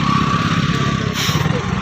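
A motorcycle engine runs close by on a hill road in a rough, throbbing putter that briefly strains and then settles, loud and continuous over the short stretch.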